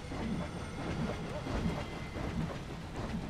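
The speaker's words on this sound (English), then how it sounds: "Oh, here comes the train." A train in the video game Planet Coaster passes by as a low rumble with soft repeated clacks, steady and moderately faint, with no one talking.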